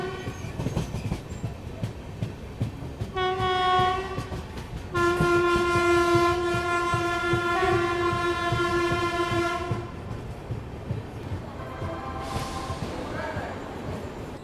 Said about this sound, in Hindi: अपनी ट्रेन पहुंच चुकी है रामपुर जंक्शन रेलवे स्टेशन